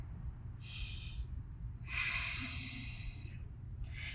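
Slow breathing in a yoga class held in a pose, with several soft breaths in and out heard close and alone against a low steady hum.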